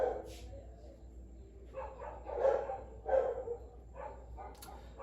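Several dog barks and yips at a moderate distance, irregularly spaced over a quiet background.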